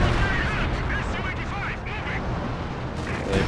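Heavy artillery fire in the World War II strategy game Company of Heroes on the Essen Steelworks map, with dense rumbling blasts and battle noise running continuously under a voice talking throughout.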